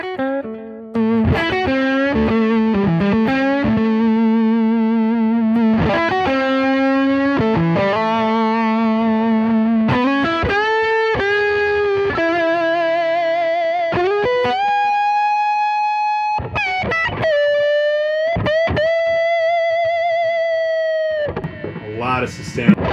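Electric guitar played through a Nobels mini overdrive pedal, giving a driven, sustaining tone: a run of picked chords and single notes, then long ringing held notes near the end, loud and continuous.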